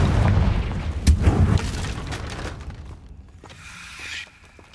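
Confringo blasting spell in the Hogwarts Legacy video game, a heavy booming explosion with a sharp crack early on that rumbles and fades over a few seconds, loud and close, with no voices.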